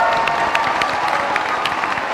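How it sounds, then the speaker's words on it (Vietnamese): Comedy show audience in Vietnam giving a burst of applause mixed with cheering, dense clapping heard close and steady throughout. "Một tràng vỗ tay cho Tăng Nhật Tuệ."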